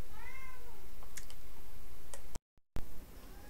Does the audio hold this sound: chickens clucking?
no